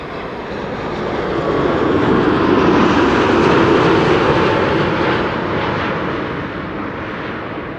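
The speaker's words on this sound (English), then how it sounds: "KLM flight 749 arriving from Cartagena up next" KLM flight 749 airliner arriving at Amsterdam Schiphol, a loud, close jet roar that builds, peaks mid-pass, and then fades slightly as it goes by, with no speech.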